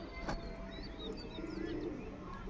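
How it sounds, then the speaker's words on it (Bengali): A male pigeon coos quietly amid a background of other bird chirps and twitters, with a brief thump near the start and steady faint ambience throughout. "এই নর পায়রা শখ করুন, চোখটা শখ করুন আপনারা"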